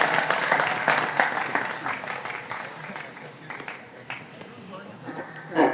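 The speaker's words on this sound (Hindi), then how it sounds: "तो आज आप सभी के जोरदार तालियों के बीच हम आमंत्रित करते हैं सावित्री जी आए" An audience at a gathering honoring a JPSC exam topper claps to welcome her as speaker, dense applause that swells early and gradually thins out over several seconds.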